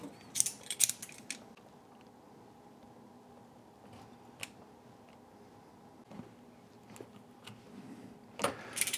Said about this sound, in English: You want to use an X-Acto knife or some sort of sharp tool to pry it open.